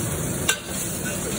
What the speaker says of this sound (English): Just going to put the garlic in.